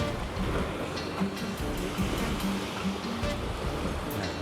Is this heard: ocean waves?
yes